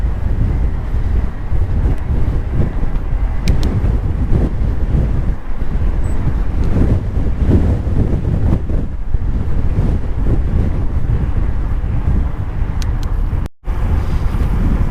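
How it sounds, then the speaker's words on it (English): Heavy wind buffets a GoPro microphone on a mountain bike ride, a steady low roar and rumble, loud and continuous, with no voices. "it seems to be really windy today"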